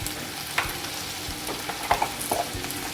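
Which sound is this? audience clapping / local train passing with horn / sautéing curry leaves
sautéing curry leaves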